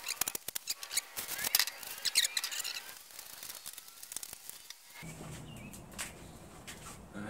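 Scissors make rapid snipping cuts through material for a homemade shark tooth sifter. The cuts come as close, crisp clicks in quick uneven bursts during the first few seconds, then give way to a softer rustling, handling background.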